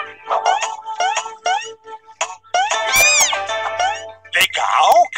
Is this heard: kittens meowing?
yes